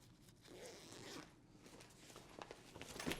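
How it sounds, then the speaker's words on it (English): A COR Surf Island Hopper 2.0 waterproof travel bag is zipped up in a quiet room, giving soft, close zipper rasps that come in short pulls and end with a few sharper ticks. "And then we can zip that up as well."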